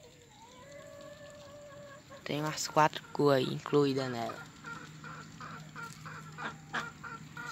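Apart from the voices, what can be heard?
chickens clucking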